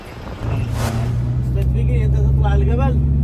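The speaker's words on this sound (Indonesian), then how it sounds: "Nah, ini mobil kita di sini." Car engine idling nearby with a steady low rumble that starts shortly after the beginning and holds constant, while people talk over it.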